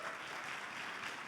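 At the CYBATHLON BCI Series event in Graz, Austria, an audience briefly applauds Karine Leclerc of the French team Nitro 2 with a short, faint, steady wash of clapping.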